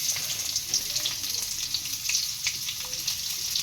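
Onion frying in hot oil tempered with black cumin seeds crackles and hisses steadily at close range, a bright, even sizzle with small pops throughout.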